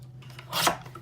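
Paper scraps being trimmed for a card background: one brief, quiet papery cutting rasp that swells and fades in under a second, with no talking.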